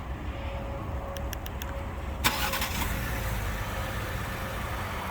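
A 2022 Lincoln Aviator Reserve starts up: a few quick clicks, then the engine catches with a short burst and settles into a steady, low idle against a constant background hum.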